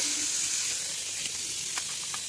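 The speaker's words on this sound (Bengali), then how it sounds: "এক এক সব সবজিগুলো দিয়ে দিয়েছি এবং দিয়ে একটু হালকা করে ভাজা করে নেব।" Chopped vegetables lightly frying in oil in a pan, a steady soft hiss with a few faint clicks of stirring, close and moderately quiet.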